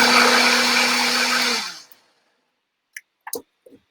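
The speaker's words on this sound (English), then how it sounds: "I don't have your kind of blender, a different one" An electric blender whirs loudly for a second and a half, then spins down to silence, followed by a few small clinks.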